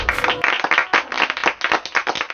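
An audience applauds a poetry recital at a Republic Day comedy event, with a brief burst of close, rapid clapping from a small group.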